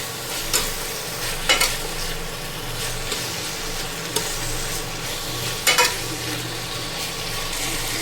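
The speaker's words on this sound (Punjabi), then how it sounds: "ਚੰਗੀ ਤਰ੍ਹਾਂ ਇਹਨੂੰ ਮਸਾਲੇ ਦੇ ਵਿੱਚ ਮਿਕਸ ਕਰ ਲਾਂਗੇ ਸ਼ਿਮਲਾ ਮਿਰਚ ਨੂੰ" Bell pepper being stirred into spices in a frying pan for a spiced potato and capsicum dish, with steady sizzling and occasional scraping strokes of the spoon, up close, with no talking.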